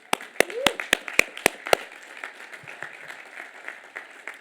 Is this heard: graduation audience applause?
yes